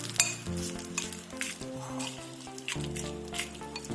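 Mango pickle is stirred after hot oil goes in, with a spoon scraping and knocking against the pot in an irregular rhythm over a soft sizzle and a low background hum, up close, no voices.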